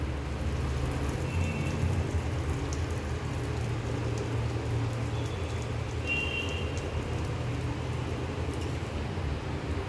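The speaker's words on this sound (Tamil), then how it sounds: "இப்போ இந்த பர்கர் எடுத்து லைட்டாக சூடு பண்ணி எடுத்துக்கலாம்" A burger bun warming in oil and Amul butter in a pan gives a steady, soft, continuous sizzle. The crackle holds at an even level throughout, with no talking.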